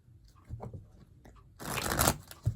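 Tarot cards being shuffled during a psychic reading, with a soft rustle early on and then a dense, loud riffle of cards near the end.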